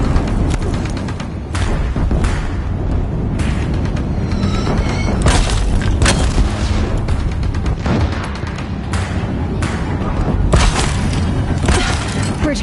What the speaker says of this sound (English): Deathbringers keep firing, this bridge will go!